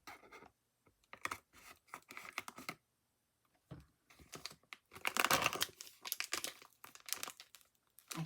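Packaging paper from an Amazon product parcel being moved and crinkled, giving irregular bursts of dry rustling and crackling with short pauses, loudest around the middle, close and fairly quiet with no talking.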